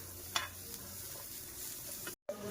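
Onion, garlic and tamarind dry-roast in a pan without oil, giving a faint, steady crackle with a few soft stirring scrapes close by.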